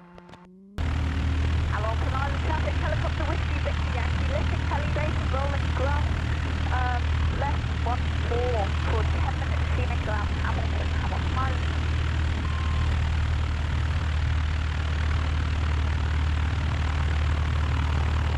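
A Piper Cherokee light propeller plane taxis along runway 14 at Hamilton Island, its engine droning loudly and steadily from start to finish, with radio chatter sounding over the constant hum.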